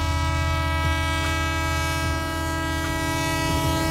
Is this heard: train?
yes